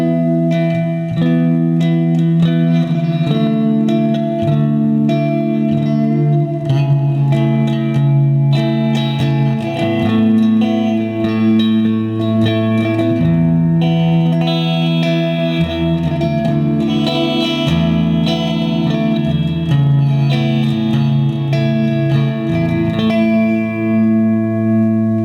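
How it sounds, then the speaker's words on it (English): A Stereo Memory Man with Hazarai delay pedal at heavy settings turns guitar notes into dense, swirling layers of repeating echoes and reverb that blur together for the whole stretch. "Turn it up a little bit more and it starts getting pretty crazy, and you can almost get some post-rock sort of sounds out of it."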